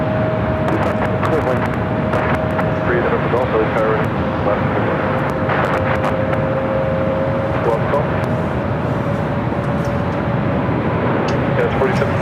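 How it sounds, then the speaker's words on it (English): A United Airlines Boeing 787-9 Dreamliner from Hong Kong arriving on runway 24 right at LAX, a steady loud jet rumble and roar with a droning engine tone, while people talk over it. "United Airlines Flight 802 coming in from Hong Kong at a 787-9 Dreamliner is the next arrival on 24 right"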